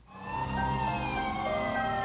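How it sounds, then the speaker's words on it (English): Fire department sirens wailing in a continuous rising and falling tone, moderately distant and steady for two seconds with no talk. "the sound of sirens confirmed that Jill had managed to wake a neighbor"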